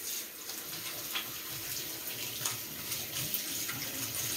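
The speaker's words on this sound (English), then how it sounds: "gonna rinse my hand off" Water runs steadily from a tap as a hand is rinsed beneath it, a soft continuous splashing hiss at close range with no voices.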